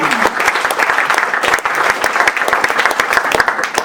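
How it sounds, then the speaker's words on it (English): A comedy club audience breaks into loud, sustained applause for a comedy teacher being introduced on stage, the clapping close and continuous for several seconds. "Let's have a round of applause for our teacher, Greg Dean"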